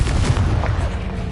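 A Confringo blasting spell in Hogwarts Legacy, a loud booming blast followed by a short rumbling decay, heard alone and close.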